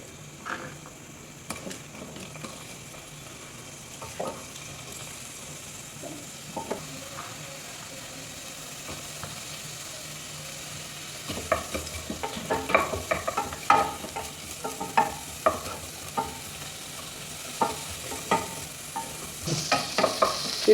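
Onions fry in a pan at home for a country chicken curry, a soft steady sizzle with scraping stirs that grow busier and more frequent in the second half.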